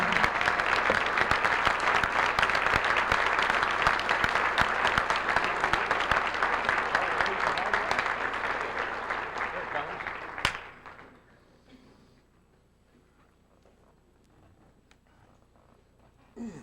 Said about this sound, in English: Have a nice round of applause for the Shea family.